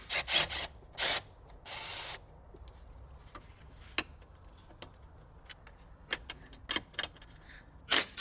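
Fasteners being pulled from the coolant valve area of a Tesla Model 3: sharp metallic clicks, rattles and scraping bursts at irregular intervals, close by, separated by quieter gaps with no talk.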